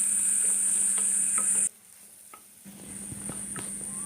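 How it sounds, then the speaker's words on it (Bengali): Ground spice masala of turmeric, cumin, coriander and red chilli powder with a little water frying and being stirred in a pan for fish-egg bhuna, a steady close sizzle with scraping stirs, briefly dropping away before returning. "মশলা ভালো করে কষিয়ে নিচ্ছি"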